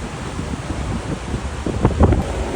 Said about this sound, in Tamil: இது அலை எந்த அளவு வேகமாக வருதுன்னு பாருங்க.